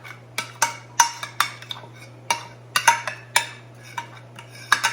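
A spoon scrapes and clinks against a casserole pan while stirring and smoothing enchilada sauce, making a series of sharp, irregular metallic taps close up with no talk.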